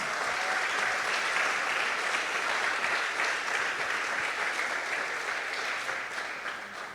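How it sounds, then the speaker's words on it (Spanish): A church congregation applauds in praise during an Easter resurrection service, a thick, continuous roar of many clapping hands that holds steady and then tapers slightly toward the end. "Dale un aplauso al Rey"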